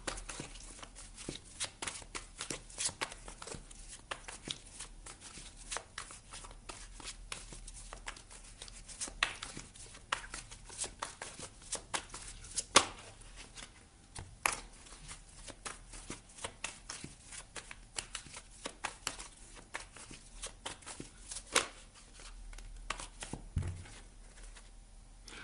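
Tarot cards shuffled by hand in a long, steady run of soft riffling and flicking bursts, close and moderately loud, with brief pauses and no voice.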